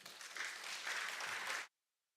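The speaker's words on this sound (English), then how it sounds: "Let's give them another big round of applause." Hearty applause from an audience at a school board regular session honoring state champions, steady clapping filling the room for about a second and a half before cutting off abruptly.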